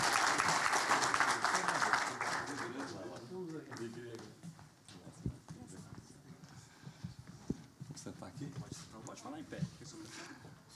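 An audience at a Brazilian ministers' gathering applauds loudly at first, then the clapping thins and fades while voices talk over the room.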